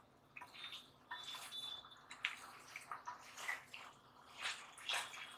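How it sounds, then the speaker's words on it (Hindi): Hot water being poured into a cooking pot of frying onions for a Maharashtrian siri (goat head) curry, heard as quiet, uneven splashing and sizzling bursts with no talk. "थोड़ा पानी हम ऐड कर दें"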